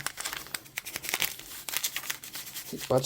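Plastic foil crinkles up close as a spider is wrapped in it for shipping, the foil also serving as light insulation; the rustling is dense, continuous and loud for about three seconds, with no one talking.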